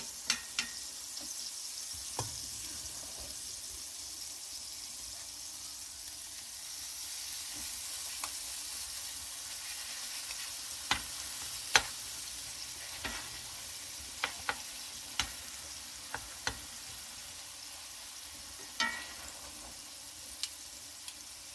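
Chicken burger bites frying in a pan, a soft continuous sizzle with scattered sharp pops and crackles, fairly quiet and without voices.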